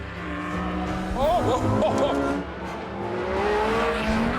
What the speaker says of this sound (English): The GT3 might be less powerful, but with electromagnetic adaptive damping and four-wheel steering, Chris was mightily quick through the bends.